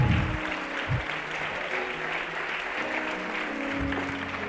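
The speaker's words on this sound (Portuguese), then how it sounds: "Dê um aplauso a Jesus." Congregation applauding during a church service, a steady wash of clapping from many hands that fills the space throughout, with a few louder low thumps and some faint voices in the crowd.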